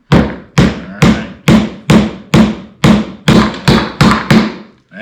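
A three-year-old girl pounds with a hammer during a first woodworking project on a ladder fire truck kit, about a dozen loud, evenly spaced thuds with short ringing tails.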